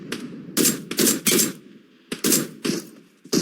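An MK14 rifle in PUBG Mobile fires several full-auto bursts at close range, sharp loud volleys separated by brief gaps, with no talking.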